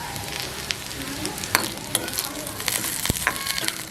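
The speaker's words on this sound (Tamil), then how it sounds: "நல்லா மெல்லிய நெருப்பில் விடுங்க. வாங்கட்டும் பொரியட்டும்." Curry leaves and onion fry in oil over a low flame, a soft continuous sizzle broken by sharp pops and crackles and occasional stirring clicks; close, no voices.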